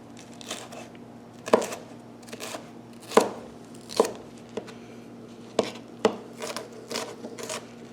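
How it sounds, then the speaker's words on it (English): A knife minces bell pepper strips on a cutting board, giving crisp, close chopping taps in an uneven rhythm. Several sharper strikes stand out over a quiet kitchen hum. "I just cut my pepper into strips, just mincing it along, my nice little mince."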